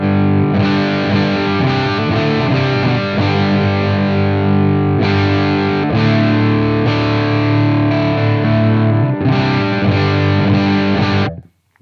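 Electric guitar through a Blackstar St James amp plugin on a smooth boost setting, a continuous stream of overdriven chords and riffs played loud and close, ending in a quick fade.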